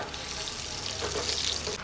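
Cumin, garlic, dried red chillies and curry leaves frying in hot oil for gongura chutney, giving a steady, close sizzle and crackle that runs throughout with no voices.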